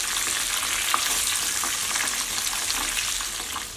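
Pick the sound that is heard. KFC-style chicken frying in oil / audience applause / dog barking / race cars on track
KFC-style chicken frying in oil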